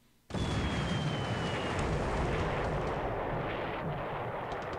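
A torpedo strikes an armed merchant ship in the War in the Pacific game: a sudden loud explosion bursts in after a short quiet start, then a sustained roaring rumble holds for several seconds.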